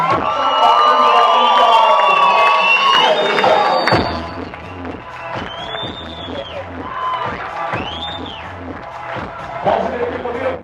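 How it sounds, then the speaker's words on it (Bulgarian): Guests at a Bulgarian wedding break into loud cheering, shouting and applause for the newlyweds, with a dense crowd roar at first that gives way to rhythmic clapping and scattered whoops while music thumps underneath. "Силни аплодисменти за тях!"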